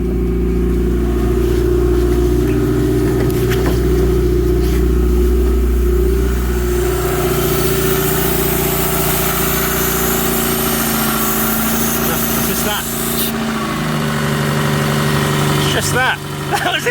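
A rebuilt car engine, its first rebuild and now leaking oil, turns over and settles into a loud, steady idle up close, with a constant rumble and occasional revs as people talk excitedly over it.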